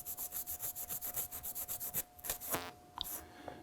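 Red Scotch-Brite pad rubbed on a Linotype keyboard rod in quick, even back-and-forth scrubbing strokes, close and dry, then a few slower scrapes and small taps.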